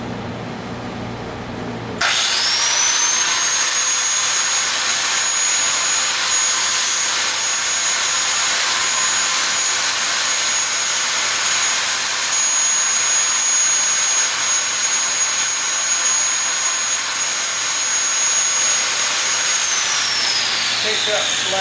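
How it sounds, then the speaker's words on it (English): A forge fires up with a sudden loud roar that holds as a steady, close, broadband rushing blast with a thin high whistle riding on top. "Once I fire it up on the forge,"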